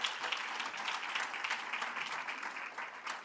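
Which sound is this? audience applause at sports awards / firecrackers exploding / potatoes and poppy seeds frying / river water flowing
audience applause at sports awards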